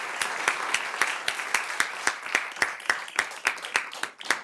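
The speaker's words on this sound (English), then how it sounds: "Let's have a round of applause for these inspiring speakers." Applause for speakers at a conference opening on people-centered justice, with a modest audience clapping in distinct, fairly steady claps, close and clear, that taper off at the end.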